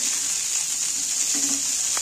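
Capsicum and carrot pieces frying in oil in a pan, a steady close sizzling hiss running throughout with faint stirring clinks.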